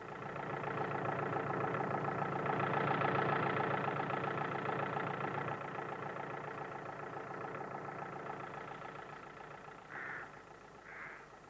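A tractor engine runs at a steady mid-pitched drone during an overturn demonstration, loud and continuous, easing slightly partway through, with two brief higher bursts near the end.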